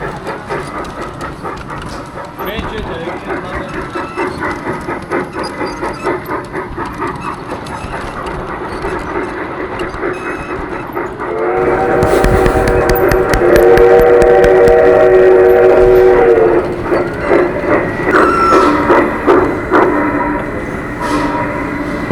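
The Gyumri Express train rumbles along loudly with steady clattering of the wheels and carriages, then a long, sustained whistle blast sounds for several seconds before the running noise continues.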